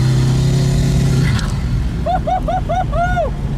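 A Koenigsegg Regera hypercar's engine drones loud and close for about a second under light throttle, then cuts away, leaving a run of short, rising whistling chirps.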